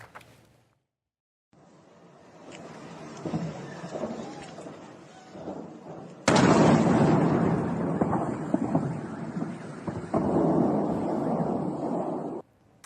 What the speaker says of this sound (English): how long it takes you to hear the boom, which tells you how far away it is and just how massive it must have been